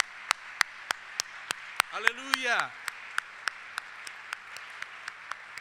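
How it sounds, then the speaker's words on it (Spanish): Rhythmic, steady clapping from a church congregation, sharp evenly spaced claps in a loud beat, with a voice briefly calling out over the middle. "Sí, le aplaudimos fuerte a Él."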